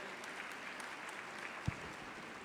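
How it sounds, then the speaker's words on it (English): Applause from the audience at a national conference for CA students, a steady wash of clapping at moderate level throughout, with one brief thump partway through. "Please give a huge round of applause for our Rakesh sir."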